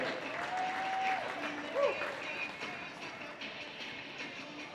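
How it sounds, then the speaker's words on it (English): Applause from a rodeo arena crowd at a tie-down calf roping event, a distant, faint wash of clapping under an announcer's amplified voice, with a brief whistle-like tone. "How about a round of applause for that?"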